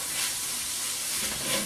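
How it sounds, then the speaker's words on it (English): Sausage sizzling in a pan, a steady close hiss of frying fat with no voices, continuous and even throughout. "Let our sausage finish cooking up."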